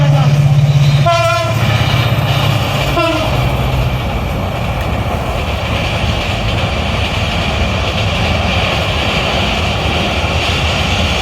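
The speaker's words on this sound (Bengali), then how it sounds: "কক্সবাজারগামী পর্যটক এক্সপ্রেস ছুটে আসছে ভালো গতিতে।" The Cox's Bazar-bound Parjotok Express approaches at speed, its horn blaring in two blasts near the start before a loud, continuous roar of wheels and rails takes over and holds steady.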